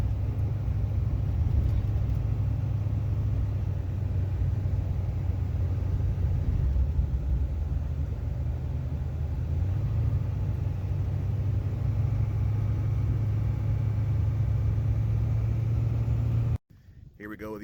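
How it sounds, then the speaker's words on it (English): An LS-swapped Squarebody rollback truck engine runs in a steady, loud rumble for a long stretch, close by, then abruptly cuts off. "Here we go with the old pop start special in creeper gear."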